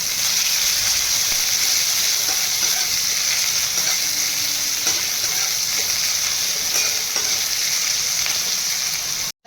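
Chopped onion and green chili frying in a pan for a catfish curry, a loud continuous sizzle close by, with faint stirring clicks and no talking.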